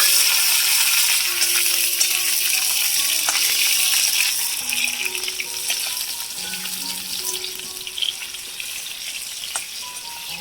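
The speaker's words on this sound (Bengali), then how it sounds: "আলু টমেটো ভালো করে ভেজে নিচ্ছি" Potato and tomato pieces fry in oil in a village kitchen, giving a steady, hissing sizzle throughout, a little louder at first, with soft stirring scrapes.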